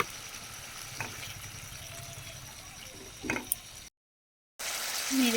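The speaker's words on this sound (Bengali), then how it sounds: "নেড়ে চেড়ে ভালো করে কষিয়ে নেব।" Spice paste stirred and fried in a pan with cashew and poppy seed paste gives a steady soft sizzle, broken by a few scraping stir strokes before it cuts out briefly and comes back.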